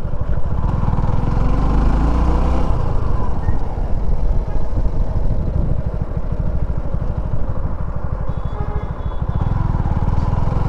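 A Suzuki V-Strom 250 motorcycle being ridden, its engine droning loud and steady throughout with a low rumbling pulse and rushing wind noise.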